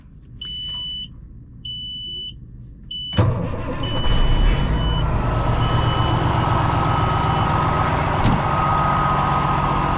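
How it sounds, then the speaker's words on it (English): Several short, high electronic beeps sound in quiet, then an old Kenworth diesel truck cranks and fires abruptly, settling into a loud, steady, rumbling idle close by in the desert. "So we'll get this old Kenworth fired up."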